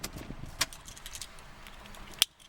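Keys jingle briefly as a 2013 Buick LaCrosse sedan is switched off, two short metallic clinks separated by quiet cabin hush, the second sharper and louder.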